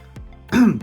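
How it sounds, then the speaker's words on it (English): A single short, throaty cough bursts out, close and fairly loud, after a brief faint catch of breath, with no talking around it. "Coughing too much today."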